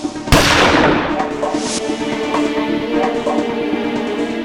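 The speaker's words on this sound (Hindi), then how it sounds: "तो गन यहां रखी और गोली चलाई।" A single sharp gunshot cracks loudly near the start, followed by a lingering echo over a steady background hum.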